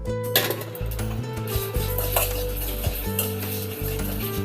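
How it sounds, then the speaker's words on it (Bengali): Coriander seeds, dried chillies and fennel seeds frying in a wok, with a steady dry sizzle and occasional scraping and rubbing of a spatula against the pan, close up. "এবার সবগুলো একটু ভাজা হবে।"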